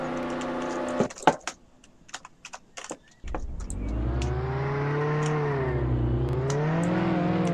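A McLaren supercar in the Roblox Jailbreak game starts up after a few clicks and taps, then holds a smooth, rising engine drone that stays steady and moderately loud to the end.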